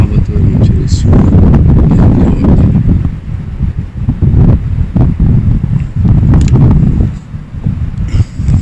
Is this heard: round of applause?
no